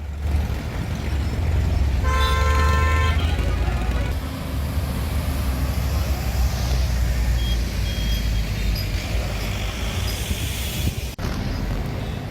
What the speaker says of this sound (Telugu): జాతీయ రహదారిపై ట్రాఫిక్ స్తంభించింది. సుమారు 6 కిలోమీటర్ల మేర ట్రాఫిక్ జామ్ అయింది. దీంతో వాహనాలు నెమ్మదిగా కదులుతున్నాయి.